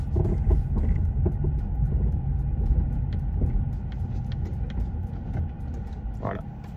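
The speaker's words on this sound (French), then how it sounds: "faire écouter tous les petits bruits que font les biellettes de barres stabilisatrices, les rotules" A car with worn stabilizer bar links and ball joints drives straight over small potholes and road deformations, with faint clunks under a steady, loud road rumble from inside the cabin.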